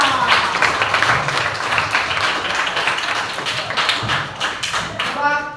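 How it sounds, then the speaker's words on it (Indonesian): Students in a classroom clap together, quick uneven claps and taps filling the room at close range, with a voice beginning to speak at the very end. "Oke, tepuk tangan semuanya."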